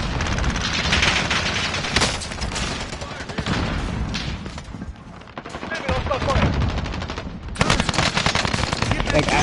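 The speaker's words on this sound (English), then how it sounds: "I was shooting her and she changes to Adler" Gunfire in Call of Duty Warzone, a dense, loud run of rapid automatic shots and bursts that thins briefly in the middle before erupting again, with voices underneath.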